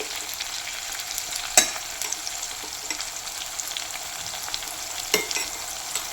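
Rambutan pickle mixture sautéing in a pan, a constant close sizzle of frying oil with a couple of sharp spoon knocks against the pan, with no voices.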